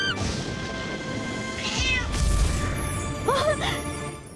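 Cartoon cat meowing in an animated fairy tale, several distinct meows rising and falling over a busy music and effects bed, with a crash-like hit in the middle.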